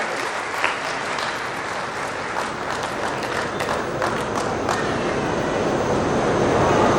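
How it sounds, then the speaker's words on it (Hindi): An audience at a poetry stage event during the Azamgarh Mahotsav 2023 festival claps loudly for a poet, the dense applause sustained and swelling slightly toward the end. "जोरदार तालियां"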